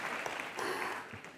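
A crowd claps in a brief burst of steady applause, filling the space with dense, even clapping.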